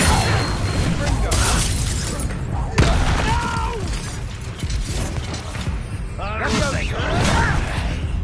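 Magical duel in Hogwarts Legacy, a sharp disarming spell cast among bursts of crackling impacts, whooshes and mechanical clanks, with voices shouting over the fight.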